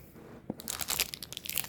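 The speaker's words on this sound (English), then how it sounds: "If you catch me chewing," Someone chewing breakfast close by, with crunchy, crinkly bites starting after a brief quiet moment and continuing in an irregular run, no talk over it.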